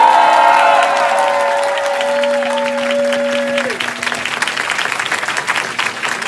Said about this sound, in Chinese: 那我们用最热烈的掌声